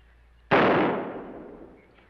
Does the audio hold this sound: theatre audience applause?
no